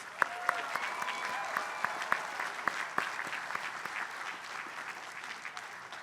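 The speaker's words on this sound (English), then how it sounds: "Please give them a round of applause." Audience applause at a Tufts University 2022 commencement ceremony, a steady wash of clapping from a large crowd with a few sharper nearby claps, while a voice carries faintly over it.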